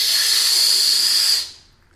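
A whistle-shaped Japanese candy is blown hard, producing a loud, breathy, airy whistle with a thin steady pitch that holds for over a second and then cuts off into near silence.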